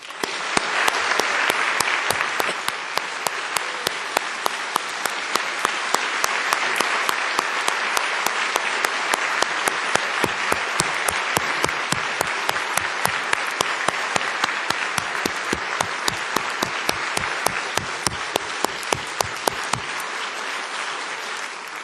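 An audience at the Nevada governor's State of the State speech applauds for about twenty seconds. The clapping is loud, dense and sustained from a large crowd, then tapers off near the end.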